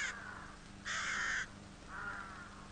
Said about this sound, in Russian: Серую ворону вы, конечно, хорошо знаете.